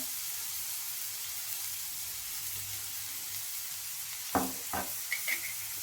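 Onion and tomato softening in a frying pan with salt for paneer bhurji, giving a steady low sizzle with a few brief stirring clinks near the end; no one talks.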